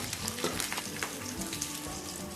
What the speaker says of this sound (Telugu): ఈ పోపు అంతటిని కూడా చక్కగా వేయించుకోవాలి